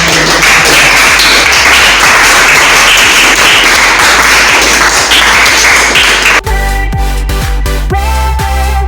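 A class of students applauds, dense and close clapping from many hands for several seconds, then the clapping stops abruptly and music takes over.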